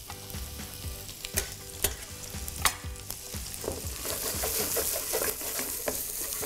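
Onion, chili and ginger fry in a pan for a curry, a steady crackling sizzle broken by several sharp stirring clatters and scrapes early on, the sizzle rising louder and brighter toward the end; no talking.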